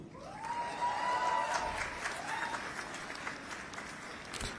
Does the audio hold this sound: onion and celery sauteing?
no